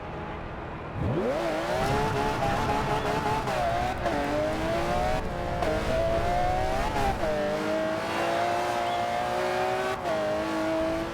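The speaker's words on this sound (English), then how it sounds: "you probably know the sound of this engine, or you've probably heard this engine before" A car engine in Forza Horizon 2 starts up and revs hard, its pitch climbing and falling through repeated throttle bursts and gear changes, loud and close with no talking.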